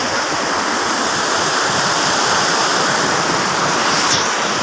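Loud, steady rush of a swollen, flooding river, continuous broadband roar of flowing water close by with no pauses.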